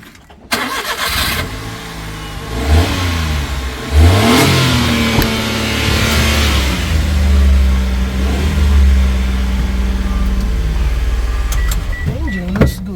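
A used petrol car at a Japanese auction, with high mileage, cranks and starts, then idles close by with a few revs rising and falling, ending with a brief whine.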